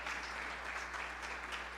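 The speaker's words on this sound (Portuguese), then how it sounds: "Pode aplaudir ao Senhor pela vida dela." Sustained applause from a church congregation, steady and moderately loud, clapping filling the room without pause as the crowd applauds during a service.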